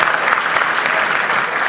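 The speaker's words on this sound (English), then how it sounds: "let's get a nice round of applause for the Maine West athletic community" Steady, dense applause from an audience at a Maine West marching band concert, loud and continuous throughout with no break.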